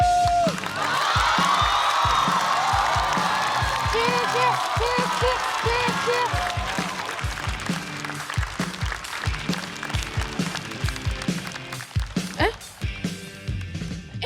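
Loud audience applause with cheers and whoops fills a stand-up comedy show hall as a comedian is welcomed to the stage, sustained clapping gradually thinning toward the end.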